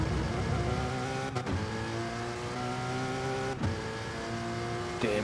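BMW M4 and Porsche Cayman racing cars in a racing video game at the Fuji circuit, steady engine drone with shifting revs and a few brief gear-change breaks, loud and continuous.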